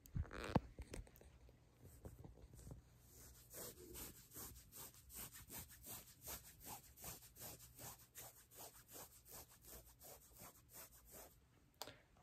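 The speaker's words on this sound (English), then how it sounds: "I'll do some scratches." Scratching for ASMR: close, rhythmic strokes rasp against a wooden surface in an even run of about twenty scrapes, quiet and intimate, with no talking.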